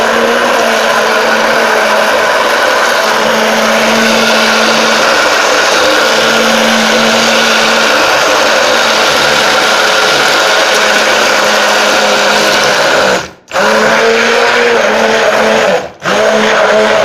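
A blender runs steadily for about thirteen seconds, whirring through a carrot, ginger and coconut soup with red wine added, then cuts out briefly twice near the end.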